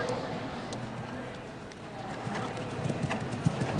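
Horse hooves during a show jumping six bar competition, a young horse under an experienced rider, thudding in a loose rhythm across the arena beneath a commentator's steady talk.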